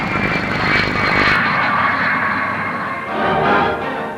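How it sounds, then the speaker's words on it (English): Flying Triangle delta-wing research aircraft comes in low and fast to land, its engine a loud sustained roar that shifts in tone partway through, with no talking. "Coming in to land low and fast, the pilot uses a tail parachute to act as a brake."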